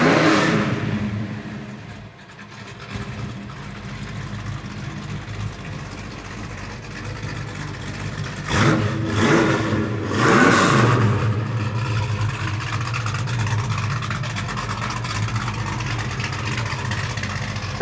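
The 455 V8 in a 1970 Buick GS restomod idles with a deep, steady rumble, then is revved twice in quick succession a little past the midpoint before settling back to a loud idle.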